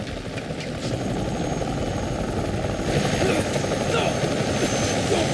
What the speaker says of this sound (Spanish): Se ve el helicóptero allá arriba